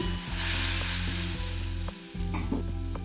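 Spice masala mixed with yogurt fries in butter over low heat in a pan for palak paneer, a loud, close sizzle under rhythmic stirring scrapes, with no voices.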